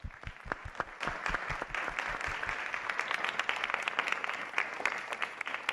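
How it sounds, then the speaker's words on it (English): An audience gives panelists a round of applause at a talk, starting with a few distinct claps that quickly swell into steady, moderately distant clapping from a room full of people, fairly soft overall. "Let's give them a round of applause."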